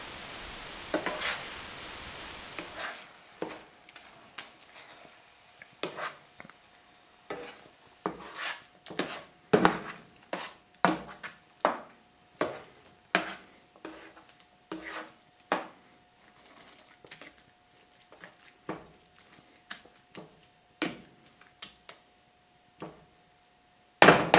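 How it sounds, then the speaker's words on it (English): A mushroom mix is stirred and scrambled in a pan: a close run of sharp, irregular scrapes and taps of the utensil against the pan over a faint sizzle, with no talking. "Now we're going to stir the mix a little. Start to scramble it up a bit."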